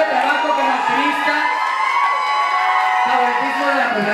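A crowd at an LGBTQ pride march in Cuautla cheers and shouts in bursts, loud and close, with voices and whoops swelling and fading over steady background noise.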